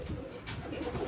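A pigeon coos in a short, soft burst close by in a loft, a low throaty murmur with no one talking over it.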